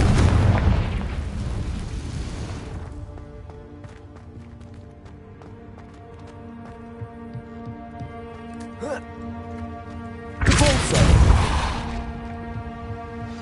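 Fiery Confringo spell blasts from a wizard game, a loud roaring burst at the start that fades over a few seconds, a quieter tonal stretch, then a second explosive burst near ten seconds.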